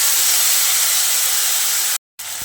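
Ground spice paste for a bhindi aloo (okra and potato) dish goes into hot tempering oil and sizzles in a loud, steady hiss that cuts out briefly near the end, then resumes.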